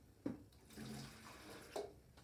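Water poured out of a glass vase into a sink, a brief splash followed by a short gurgling flow and a second splash, close and moderately loud with no talking.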